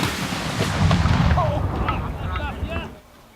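An RPG-7 rocket launcher fired at a car outdoors, a loud, close blast with a deep rolling boom that trails off over a few seconds while voices call out during the echo.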